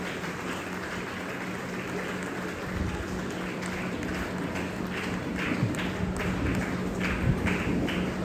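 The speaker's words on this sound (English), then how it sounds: "Give them a big round of applause to appreciate and encourage them." An audience at an Independence Day celebration claps for students receiving certificates, a steady crowd patter that stays even throughout, with a few louder, sharper claps standing out near the end.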